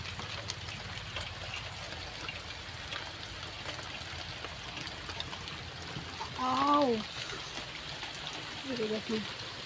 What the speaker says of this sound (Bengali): এই যে অনেক বৃষ্টি প্রচুর পরিমাণ বৃষ্টি হচ্ছে